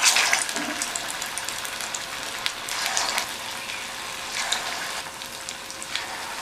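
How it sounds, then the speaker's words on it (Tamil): Rice bondas made from leftover rice fry in hot oil in a kadai over a medium flame, giving a steady bubbling sizzle with crackling bursts that swell and ease, close and fairly loud with no talking. "ஒவ்வொரு போண்டாவாக உருட்டி எண்ணெயில் சேர்த்துடலாம்"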